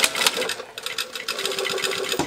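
A sewing machine stitches a hem on a garment, running in a fast, steady, close mechanical whir with small pauses.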